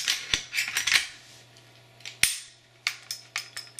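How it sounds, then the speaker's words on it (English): Metallic rattling from a Glock 20SF 10mm pistol slide being shaken by hand, its firing pin knocking inside: a quick series of sharp, close clicks in uneven bursts, alone with no talking. "Shake it. You'll hear the firing pin move."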